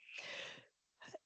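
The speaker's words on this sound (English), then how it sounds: "I was trying to stop that sneeze and I just couldn't do it" A person lets out a single loud, close sneeze, a drawn-out burst followed by a short second catch of breath, with no talking around it.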